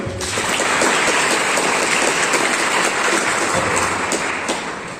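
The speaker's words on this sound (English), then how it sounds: "Please clap for him." An audience claps for a student at an entrepreneurship session, producing a dense, steady wash of applause that holds for several seconds before easing slightly at the end, with no voices over it.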